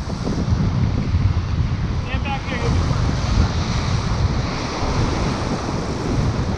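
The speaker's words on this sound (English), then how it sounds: "These waves are sketch though" Ocean surf pounds continuously at a beach where a surf fisherman stands, waves breaking in a steady roar mixed with heavy wind buffeting the microphone, loud and close throughout.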